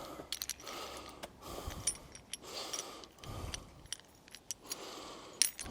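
A handful of metal Allen keys jangling and clinking together in several bursts of rattling, close and moderately loud, with no talking.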